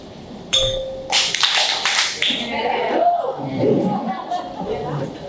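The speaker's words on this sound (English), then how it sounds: "after you clap, say get up, and actually get up" An audience at a Christmas party claps hands in a few sharp bursts, a brief clap followed by a longer spell of applause, with a speaking voice and murmuring around it.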